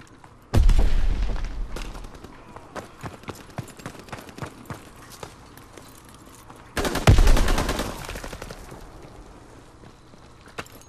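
Two loud, close grenade blasts in Call of Duty: World War 2 about six seconds apart, each decaying into a rumble, with scattered bursts of rifle and automatic gunfire crackling between and after them.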